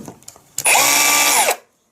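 A Milwaukee M18 CHPX heavy-duty cordless drill starts with a burst and runs for about a second at a loud, steady whine, then winds down to silence after a few faint handling clicks.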